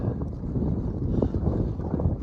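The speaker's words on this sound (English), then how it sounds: "Winds up here are pretty windy if you can't hear it." Strong wind on a high mountain pass, a steady close rumble buffeting the microphone without letup.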